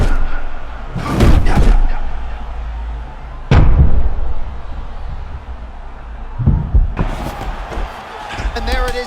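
A takedown slam lands with heavy thuds in EA Sports UFC 6 gameplay, in a championship round of Amir Albazi vs Alex Perez. Several loud impacts are spread across the clip, under commentary.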